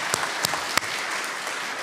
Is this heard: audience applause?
yes